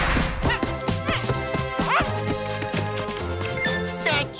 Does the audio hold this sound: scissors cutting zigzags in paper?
no